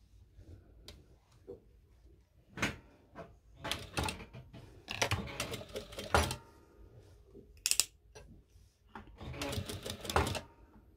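Sewing machine stitching fabric to secure a triangle on a button placket, heard as short irregular mechanical bursts of whirring and clatter, close up, with pauses and handling noises between runs.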